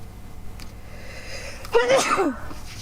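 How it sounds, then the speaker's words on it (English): A single sharp sneeze close by, bursting out suddenly after a quiet stretch and trailing off quickly. "That's a sneeze."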